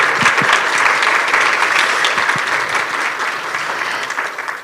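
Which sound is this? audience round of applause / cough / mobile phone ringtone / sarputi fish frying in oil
audience round of applause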